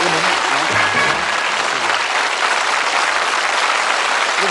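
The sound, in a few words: studio audience applause on a darts game show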